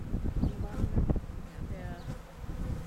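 Honeybees buzz in a steady swarm at an open beehive, close and continuous, while people talk softly and handle the frames amid occasional knocks.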